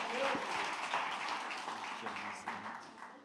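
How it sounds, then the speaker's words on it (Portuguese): Applause from a congregation during a church worship service, a dense steady wash of clapping that fills the whole stretch and slowly thins toward the end, with a few voices mixed in. "Dê uma salva de palmas a Jesus pela vida do nosso irmão."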